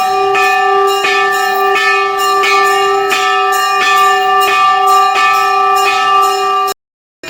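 A bhokar horn sounds a loud, steady, droning tone at a Pingalinag temple's Navratri aarti, with bells clanging in a regular beat beneath it, before the sound cuts off abruptly.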